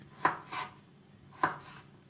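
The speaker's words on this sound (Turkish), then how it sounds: "Küp küp doğranıyor." Knife dicing peeled winter squash into cubes on a board: a few sharp, distinct chops spaced unevenly, quiet and close, with no talking.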